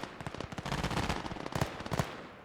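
Gunfire in the WWII video game Gates of Hell Ostfront comes as rapid, dense bursts of shots, some sharp and some distant, packed into a couple of seconds with no talk.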